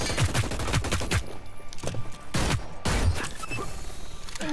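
Ripper gun firing in the video game Hyper Scape, rapid bursts of loud, sharp shots in quick succession with brief pauses between volleys, up close and without voices.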